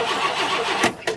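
The engine of an abandoned 1968 Ford XL Fastback cranks loudly up close with a rapid rhythmic starter churn, then briefly cuts out and resumes.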